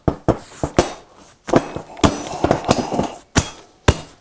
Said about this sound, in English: You pop the seat back on